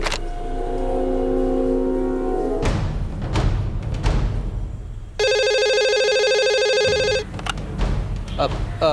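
A telephone rings loudly in an electronic trill for about two seconds, amid thumps, clatter and engine-like rumble.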